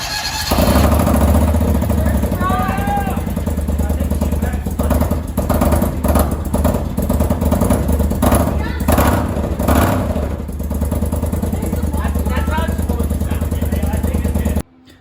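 A John Deere 625i Gator utility vehicle engine cranks and catches, then runs steadily and loudly close by for the whole stretch, with a rough chugging idle and people talking over it.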